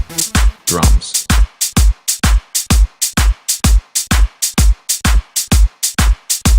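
A punchy electronic drum loop for a happy EDM track built in FL Studio, with a steady four-on-the-floor kick and crisp snares and hats repeating in a tight, loud, evenly spaced pattern with no voices.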